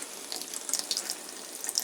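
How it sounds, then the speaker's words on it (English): Water from an RV plumbing line pours out in a steady hiss while a 5th wheel trailer is winterized, a close, fairly quiet splashing flow with no talk. "Once we get the water pumping out of the line, the antifreeze will follow"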